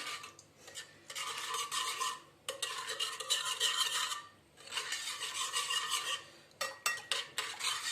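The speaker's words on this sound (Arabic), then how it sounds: "غنخلط هذا الشيء" A small spoon stirring yeast and rice in a bowl, rasping scrapes in several long bursts with short pauses between, close and fairly quiet, with no talk.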